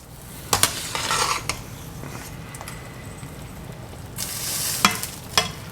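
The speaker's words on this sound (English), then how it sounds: "as we bring it in, we're going to start mixing it in" Orecchiette pasta being tossed into sausage and broccoli rabe in a pan: a soft sizzle underneath, with two clusters of sharp scraping and clattering strokes near the start and end, close up and with no voices.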